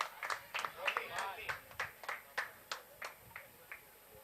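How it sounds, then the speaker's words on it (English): Spectators at a cricket match clap for a batsman in a rhythmic run of about a dozen distinct, fairly close claps, fading slightly toward the end. "Let's give him a loud round of applause."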